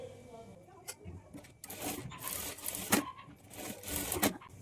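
Sewing machine running in short bursts while stitching a double seam on a plain blouse shoulder joint, quiet rattling runs separated by pauses, with a voice speaking over it.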